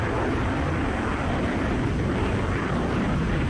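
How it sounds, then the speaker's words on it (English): Jet engine of a fighter aircraft in the Falcon BMS 4.37.4 flight simulator during free flight over Seoul, heard as a steady, loud, broadband roar with a deep rumble that holds unchanged throughout, alone with no talk. "the sound of the engine is amazing"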